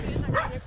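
A dog at a horse stable gives a quick yappy bark, close and fairly loud, overlapping a person talking.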